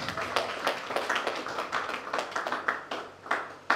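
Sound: audience applause

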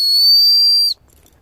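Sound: whistling to call cats

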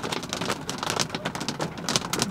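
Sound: thunderstorm rain in New Mexico desert

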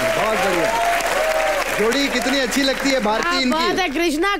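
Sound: studio audience applause

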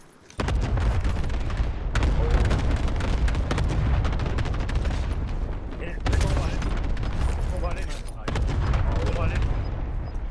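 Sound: airstrike explosions in video game Call of Duty: Modern Warfare

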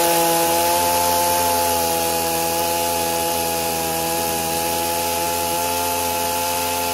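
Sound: chainsaw cutting a log

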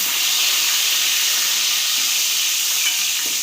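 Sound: green chillies and curry leaves sautéing in oil

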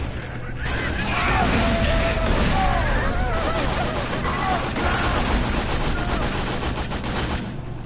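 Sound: grenade explosions and gunfire in video game Borderlands 2

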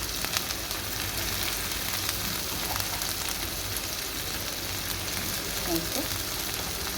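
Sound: onions frying in a pan for egg curry

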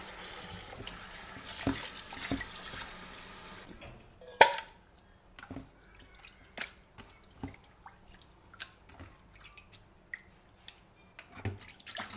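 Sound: washing mutton with water

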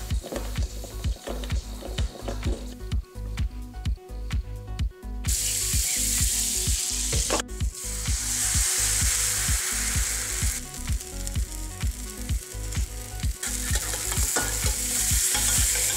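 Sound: cheese-and-ham pancakes sizzling in a frying pan

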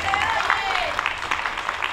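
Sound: applause

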